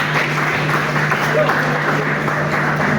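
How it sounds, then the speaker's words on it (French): Audience applause at an awards event for best actress, a loud steady wash of clapping with a voice and a low electrical hum running beneath it. "Encore des applaudissements pour elle"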